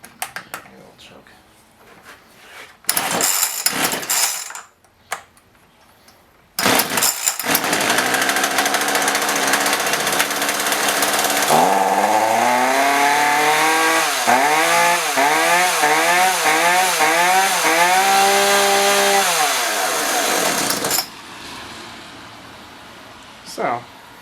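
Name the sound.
chainsaw engine starting and revving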